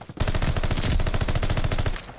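A fully automatic gun fires in a first-person shooter video game: one loud, rapid burst of about two seconds with no talk.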